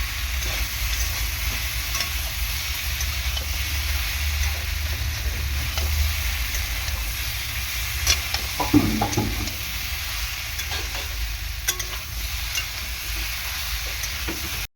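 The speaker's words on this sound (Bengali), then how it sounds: "ভালো করে এরকম করে কষিয়ে নেব আলু আর সয়াবিনটাকে।" Potatoes and soybean being stir-fried in a pan for a vegetarian soybean dish, a constant dense sizzle with irregular spatula scrapes and a few clatters in the middle, continuous and fairly close, no voices.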